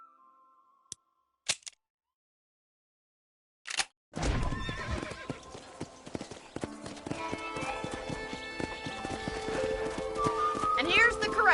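Horses in the Red Dead Redemption video game neigh and clip-clop at a ranch corral: a few sharp, isolated hoof knocks first, then a dense, busy stretch of hooves and whinnies that grows fuller and louder to the end.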